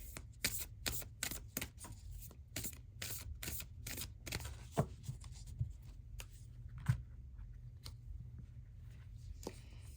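Oracle spell cards for a tarot-style reading being shuffled and drawn, a quick run of crisp riffling slaps at first, then scattered softer card flicks and taps, close and with no talking.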